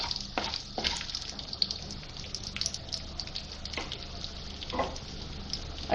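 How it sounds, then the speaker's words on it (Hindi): Nigella seeds (kalonji) hit hot oil in a home kitchen pan while cooking chana dal kachori and aloo tarkari, giving a steady broadband sizzle with a few sharper crackles and stirring scrapes, fairly close and without talk. "ऑयल गर्म हो गया है हमारा, और ये कलौंजी डाल दूँ।"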